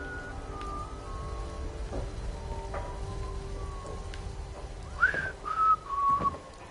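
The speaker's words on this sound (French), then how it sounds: "Très chiant ce que tu siffles, mec." A person whistles a few short, rising and sliding notes near the end, over a low steady background hum from the Fallout 4 game.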